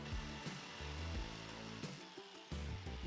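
A jigsaw cuts curves through walnut with a loud, continuous buzzing whine that rises and drops in pitch as the blade catches and strains, alone without talk.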